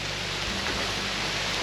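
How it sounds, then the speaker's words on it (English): Rain falling steadily on an off-grid homestead, a dense, even hiss of drops with a faint low rumble beneath. "It's raining!"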